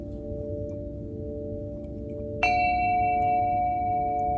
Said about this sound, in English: I can't forget my Tibetan bell.